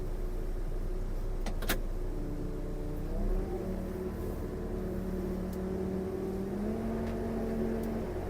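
Massey Ferguson TH.703 telehandler driving, heard as a faint, steady engine hum with a rising and shifting whine over a low rumble, a couple of brief clicks early on, no talking.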